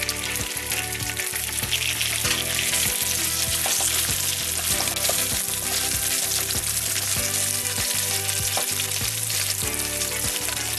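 Potatoes sizzle and fry in a pan of hot oil for batata poha, a loud, steady crackle with faint stirring scrapes that carries on throughout without any voices.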